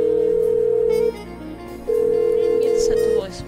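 An old-style telephone rings unanswered in the 1970s-set adventure game Blackwell Unbound, giving two long, steady electronic ring tones separated by a pause, with quiet background sound between them.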